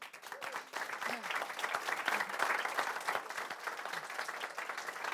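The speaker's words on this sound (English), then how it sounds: "can I have the biggest applause possible for the team?" Audience applause at a university digital design showcase, moderately distant and steady for about five seconds, with some voices mixed into the clapping.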